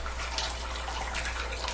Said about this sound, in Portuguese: Eu vou jogando a água quente aqui em cima.